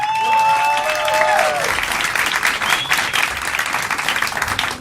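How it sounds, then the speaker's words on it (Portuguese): Audience applause at a Brazilian stand-up comedy club, a dense, sustained clapping roar that stays loud and steady throughout, with a few whistles rising above it near the start. "Muitos aplausos para Alisson Castro"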